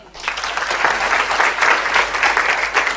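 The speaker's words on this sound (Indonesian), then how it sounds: "Tepuk tangan." Seminar audience breaking into applause after a preacher's point, clapping swelling quickly from quiet into a loud, close, crackling burst of many hands that carries on steadily.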